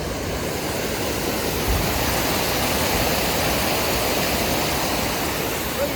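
Water flows strongly over sand in a stream near Mysuru, giving a dense, steady rushing roar that is close, loud and unbroken, with no voices.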